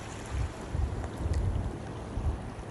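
Sea waves wash and rumble at a steady level, with gusts of wind buffeting the microphone, outdoors by the shore with no voices.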